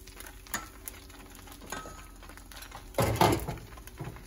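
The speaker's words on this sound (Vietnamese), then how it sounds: "We call this one bánh xèo because when we cook, we hear the noise xèo xèo xèo" Bánh xèo batter hits hot oil in a frying pan, giving a soft crackling sizzle with a few clattering utensil taps and a louder burst of spitting near the end.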